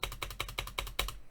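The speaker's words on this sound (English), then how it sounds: "tapping my desk, my keyboard" Fingers tap out a quick, uneven rhythm on a desk and computer keyboard, about eight close, crisp clicks and knocks in a short burst.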